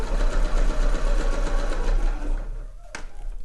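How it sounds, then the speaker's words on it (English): A sewing machine stitching fabric with a width of 3 and a length of 2 for an ear warmer, a fast steady mechanical whir that runs continuously before slowing near the end. "your machine should quite happily just draw that 3"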